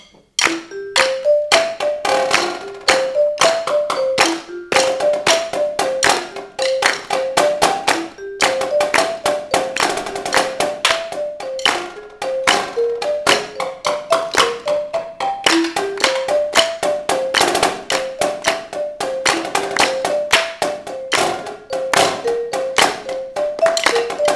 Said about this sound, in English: let's clap along and have Miss Islas play the melody